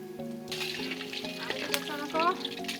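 Ripe bananas cooking in a pan for a Filipino breakfast, a soft sizzle with stirring clatter, while people talk close by.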